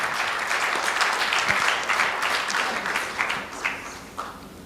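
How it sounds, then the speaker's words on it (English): An audience at a Rotary club installation ceremony claps to welcome the president-elect, a full round of applause that thins into scattered, fading claps toward the end. "Please welcome President-elect Rotarian Dr. Shivani Sule with a big round of applause."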